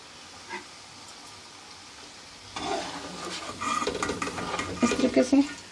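Nimko sev frying in hot oil over medium heat while it is stirred until light golden: a soft, low background gives way to louder, busy stirring and sizzling from partway through.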